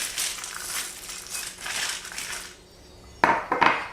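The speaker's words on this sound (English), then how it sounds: "Now I'm going to add the walnuts and the pepitas." Walnuts and pepitas tumbling into a pan of roasting cashews and peanuts: a rattling, crunchy scatter of nuts, then a quiet pause and a few sharp clinks and scrapes near the end.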